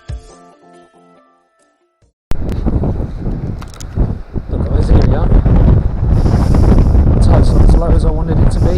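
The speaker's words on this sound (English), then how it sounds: "Sorry about the wind." Strong wind buffets the microphone on Herne Bay beach, a loud, constant roar that starts abruptly after a quiet moment and keeps rumbling without a break.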